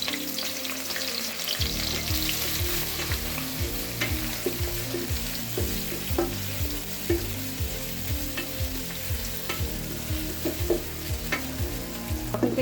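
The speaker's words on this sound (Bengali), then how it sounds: "যখন তেলটা গরম হবে, পরিপূর্ণভাবে গরম হবে, তখন আমার পেঁয়াজগুলো ঢেলে দিতে হবে।" Onions fry in hot oil with a continuous crackling sizzle and scattered ticks from stirring, heard alongside rhythmic background music.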